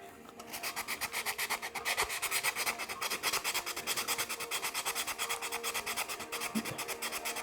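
Wooden handle of a penhold table tennis racket being trimmed and shaped, a steady rhythmic rasping scrape repeating in quick even strokes, close and fairly loud throughout with no talk.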